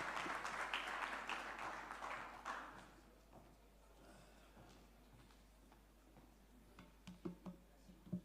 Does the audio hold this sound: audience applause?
yes